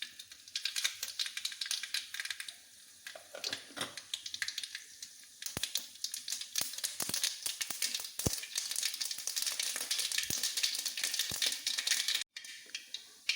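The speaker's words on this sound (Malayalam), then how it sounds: "കടുക് ഇട്ട് കൊടുക്കാം." Mustard seeds crackle in hot coconut oil in a pan for a Kerala elephant yam leaf thoran: a steady close sizzle broken by sharp, scattered pops that grow more frequent partway through, with no talking.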